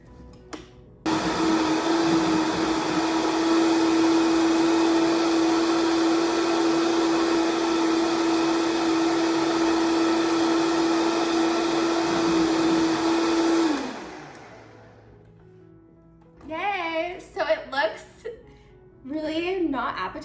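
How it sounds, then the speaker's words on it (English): A blender whirs loudly and steadily for about twelve seconds blending a smoothie with distilled water, then winds down and stops, followed by a brief voice. "And now we will blend."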